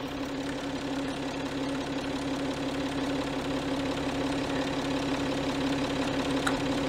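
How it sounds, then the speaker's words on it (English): Citroën C6 diesel engine idling steadily as it warms up, a continuous close mechanical drone with a faint rhythmic knock and no voices. "Getting diesels to warm up, honestly."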